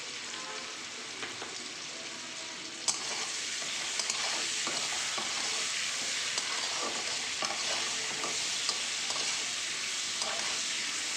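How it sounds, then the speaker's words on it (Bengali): Potato and pointed gourd frying in oil with salt and turmeric, a steady close sizzle with occasional stirring clinks and pops, no voices. "এখানে আলু আর পটলটাকে ভেজে নিচ্ছি নুন হলুদ দিয়ে"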